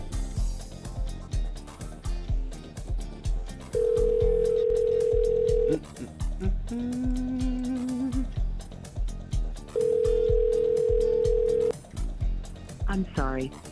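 An outgoing phone call rings out with two long, steady ringback tones a few seconds apart, heard beneath ongoing talk and background music.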